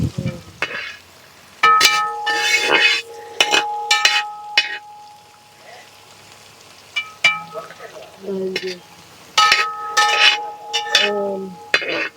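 Ginger and garlic frying and sizzling in a pan for lime pickle, with bursts of stirring and utensils scraping and clinking, loud and close, broken by quieter pauses.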